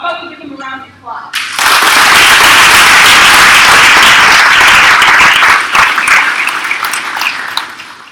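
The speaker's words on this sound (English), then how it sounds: "How about we give them a round of applause?" At an elementary school graduation, a voice speaks briefly before loud, sustained applause from the audience for parents, teachers and principals breaks out and slowly eases off.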